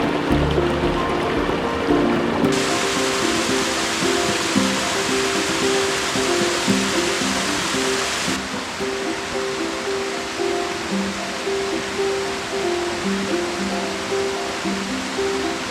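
Steady rushing river water flowing continuously, loud and close, with a broadband wash that grows brighter and fuller partway through, suggesting the current or cascades along a hidden stretch of river with waterfalls.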